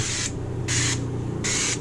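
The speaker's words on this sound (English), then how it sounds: "I'm going to give it a good old spray" Three short hissing bursts from an olive oil cooking spray can, evenly spaced, each lasting about a third of a second over a low background hum.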